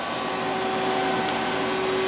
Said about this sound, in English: At this point the vacuum turns on